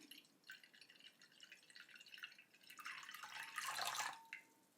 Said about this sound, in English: Start by pouring your water.